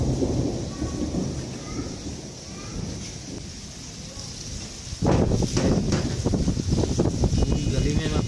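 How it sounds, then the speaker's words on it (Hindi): Heavy rain and strong wind sweeping through a village street, a dense steady downpour with rumbling gusts that surges much louder partway through, with a voice faintly present. "काफ़ी तेज़ बारिश हो रही है।"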